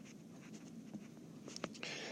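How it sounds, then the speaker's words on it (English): Pen or marker strokes scratch out a short word on a board or paper, a few quiet, brief scribbles in a hushed setting. "So I'm just going to write tin"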